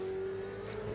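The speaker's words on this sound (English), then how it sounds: "we head into turn 1 with this car here, Brett, and introducing it as the Jamie Whin" The Jamie Whincup supercar race car drives into turn 1 at the VHRR Winton Festival of Speed, its engine a steady, loud droning hum held throughout with no talk.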